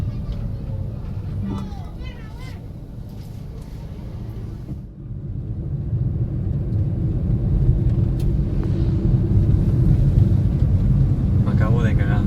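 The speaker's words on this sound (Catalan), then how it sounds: "Acaba de passar un cotxe" A car passes very close by a vehicle's mirror, a broad roaring rumble of traffic and wind swelling louder midway and staying loud, with voices talking throughout.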